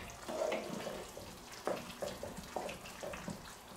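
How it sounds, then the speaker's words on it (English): A thick Polish sausage soup bubbles in a pot, giving repeated soft pops and gurgles at an uneven rhythm, fairly faint and close, with no talking. "Can you see it bubbling?"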